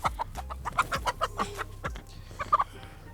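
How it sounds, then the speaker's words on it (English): Organically fed chickens on a farm cluck in quick, uneven bursts, several birds close by with a steady low hum beneath them and no talk. "this is organically fed chicken."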